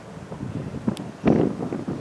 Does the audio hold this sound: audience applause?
no